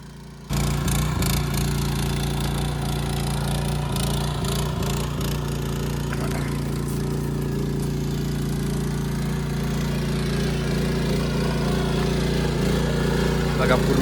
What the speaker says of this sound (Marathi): या ठिकाणी ट्रॅक्टरने चिखल करण्यात येते.